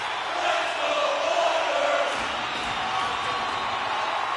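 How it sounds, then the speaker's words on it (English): A packed hockey arena crowd at a tied Kings versus Oilers game roars in a steady, dense wall of noise, with no breaks, throughout. "You can feel the energy in this crowd."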